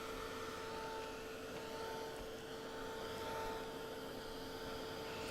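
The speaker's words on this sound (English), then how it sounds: "And then I'm going to dry this" Steady hot-air blower running close by to dry paint on a floral aster painting, a continuous broad whooshing hum with a faint tonal whine, holding level throughout without pauses or voices.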